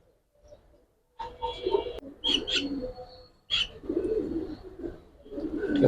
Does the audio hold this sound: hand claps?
no